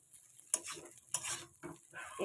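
Chow mein tossed with masala in a pan, giving a few scraping stirs with a soft sizzle underneath, close and fairly quiet.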